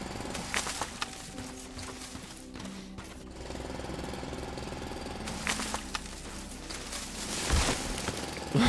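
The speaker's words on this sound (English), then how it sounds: "Spat out my drink at the drill noise." A mechanical drill grinds and rattles steadily in the video game Foundry, a loud droning hum with chattering bursts that runs throughout.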